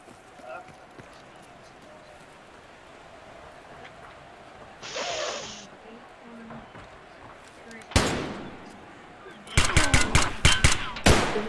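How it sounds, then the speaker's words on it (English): Gunfire in the video game Escape From Tarkov Arena, with a single sharp shot followed by a rapid burst of loud, close reports under background game noise and talk. "So many people around me shooting and then running."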